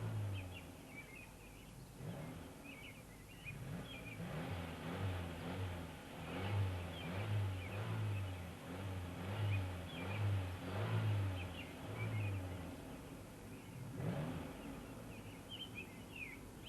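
A car is driven up onto maintenance ramps in a steady, drawn-out engine drone with mild rises in revs, while birds chirp faintly in the background.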